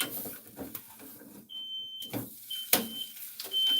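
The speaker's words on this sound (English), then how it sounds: "I'm already setting off the fire alarm in the other room." A smoke alarm set off by an overheated pan sounds from another room as faint, high-pitched steady beeps, one longer tone and a few shorter ones, amid kitchen clatter and sizzling.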